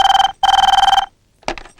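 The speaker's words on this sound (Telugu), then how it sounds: "ఏ మ్యాచింగ్ మాధవి కొంచెం ఫోన్ చూడు." An old landline telephone bell rings in a Telugu comedy film scene, giving two long, loud, buzzing rings separated by a brief gap, then a short muffled sound as the ringing stops.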